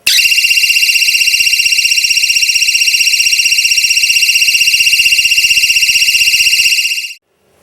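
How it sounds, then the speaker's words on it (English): A homemade alarm device goes off when its screw is removed, giving a loud, steady, high-pitched electronic buzzing tone that holds for about seven seconds and then cuts out abruptly. "Removal of the screw will trigger the alarm."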